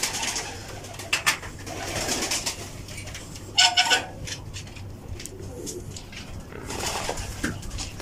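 Domestic pigeons cooing softly in bursts, with low murmuring calls and some rustling and flapping nearby.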